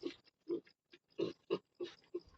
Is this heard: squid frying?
no